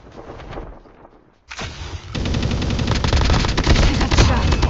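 Rapid automatic gunfire in Call of Duty Mobile, a dense, loud burst of shots that breaks off briefly, then resumes as continuous heavy firing with sharp overlapping cracks.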